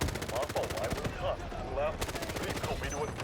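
Rapid bursts of automatic fire from the MK4 rifle in the video game Delta Force, a steady close rattling stream of shots that pauses briefly midway, with a faint voice talking underneath.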